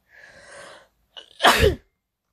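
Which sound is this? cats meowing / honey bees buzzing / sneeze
sneeze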